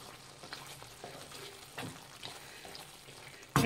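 Spicy chicken chilli chops frying in a pan, a steady soft sizzle with scattered pops and stirring scrapes, ending in a sudden louder burst of sizzling as the lid is lifted.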